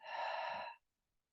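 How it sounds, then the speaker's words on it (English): A single long exhale through the mouth during a qigong breathing exercise, a soft breathy rush lasting under a second, close and fairly loud, then silence. "we're going to breathe out for 6 through the mouth"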